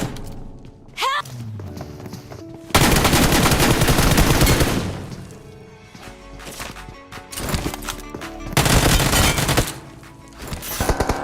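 Gunfire in the mobile battle royale game PUBG Mobile rattles out in loud, dense bursts of rapid automatic shots with short pauses between volleys, plus a few thuds and clicks and almost no speech.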